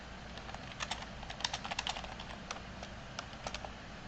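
Typing on a computer keyboard: light, irregular key clicks in short bursts, close but quiet over a faint background hiss.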